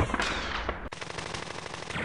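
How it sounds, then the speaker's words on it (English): Machine gun fire in a World War II strategy video game: a rapid, dense rattle of gunfire that breaks off sharply and is followed by a second, quieter burst, with no talk. "Machine gun."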